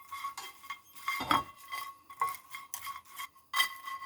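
Anchovies are dry-roasted in a hot pan and stirred with a metal utensil, giving a series of close clinks and scrapes in an irregular rhythm, with no talking.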